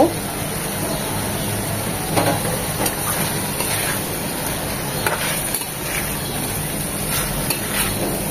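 Salted hilsa pieces dropped into hot spices in a pan give a steady, loud sizzle and hiss that runs evenly throughout, with light stirring scrapes mixed in.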